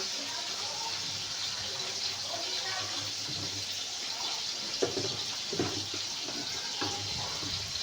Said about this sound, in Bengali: নারকেলগুলিকে গরম জল করে পনেরো বিশ মিনিটের মতো ভিজিয়ে রাখতে হবে